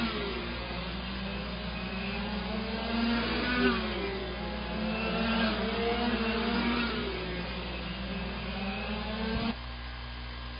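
Sportsman race cars circle a dirt track in an A-main feature, their engines a steady, distant blended drone of revving and passing motors that holds at moderate level throughout.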